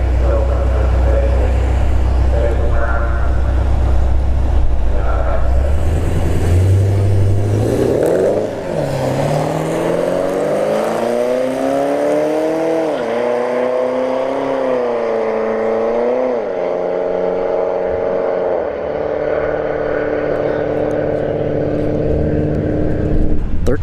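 A Camaro SS launches down a drag strip at a Thursday night drag racing event at Bradenton Motorsports Park, the loud engine roaring and climbing through several gear changes as it pulls away, with crowd and track noise around it.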